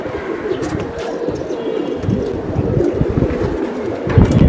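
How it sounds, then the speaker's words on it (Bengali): Silver hammer pigeons cooing in a loft, a steady layered murmur of low coos running throughout at moderate loudness, with a few brief higher flutters or chirps mixed in. "এটা সিলভার হ্যামার কবুতর"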